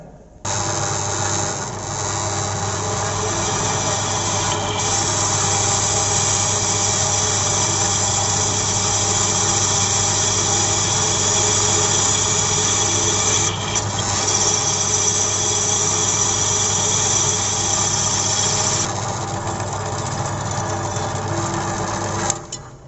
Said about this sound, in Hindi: तो इस प्रकार किसी जॉब में हम ड्रिल मशीन के द्वारा होल करते हैं।